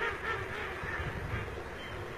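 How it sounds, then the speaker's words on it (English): Northern shoveler ducks calling in a wetland in Pakistan, a continuous faint chorus of low honking quacks blended into steady ambient noise with no talk. "The northern shoveler."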